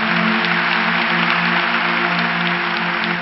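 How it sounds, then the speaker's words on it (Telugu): A church congregation applauding, a steady continuous roar of many hands clapping at once, loud and close for the whole stretch, with no voice over it. "గట్టిగా చప్పట్లు కొట్టండి నమ్మినవారు"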